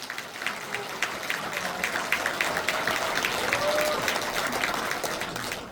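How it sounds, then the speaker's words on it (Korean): Applause from a crowd at a Korean politician's public report meeting, dense steady clapping that swells slightly and carries on for several seconds, with a faint voice underneath. "큰 박수 보내주십시오"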